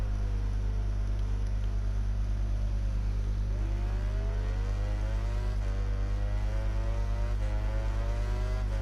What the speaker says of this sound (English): The Ducati is so stable out of corners like that, and we are slightly pulling away on the straight.